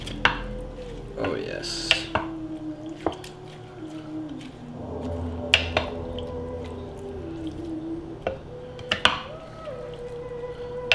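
Yellowtail and triggerfish ceviche being stirred in a big bowl, with wet squishing and dripping and a few sharp clinks of a utensil against the bowl. Soft, close, under a voice that speaks briefly.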